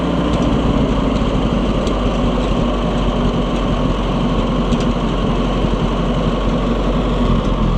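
Oliver 550 tractor gas engine running steadily after new points and coil, a loud continuous close-up drone with even rumble and no pauses, no voices over it.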